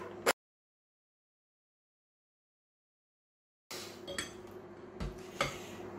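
A spoon mixes oil and yogurt batter in a bowl. After a single early clink and a long silence, quick clinks and scrapes against the bowl fill the last two seconds.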